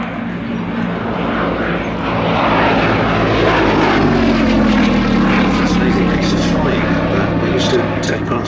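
A Gloster Gladiator biplane's propeller engine drones loudly and steadily nearby, its pitch shifting slightly as it passes, with a voice faintly underneath.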